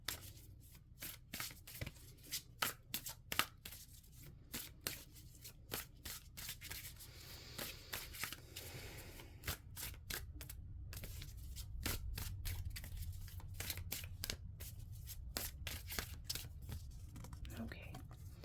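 Oracle cards being shuffled and riffled in quick dry bursts of papery flicks and slides, close and soft, with quiet speech-like murmuring in between.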